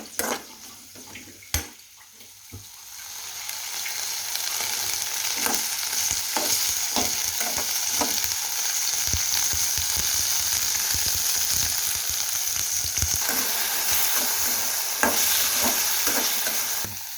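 Curry ingredients stirred and frying in a pan, a steady close sizzle with repeated scraping stirs and clicks of the spoon throughout, no talking.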